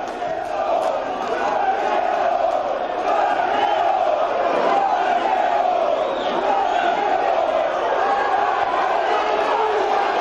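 A football stadium crowd chants in unison at a Guarani goalkeeper leaving the pitch after a match, a loud, steady mass of voices with a rhythmic shouted chant filling the whole stretch.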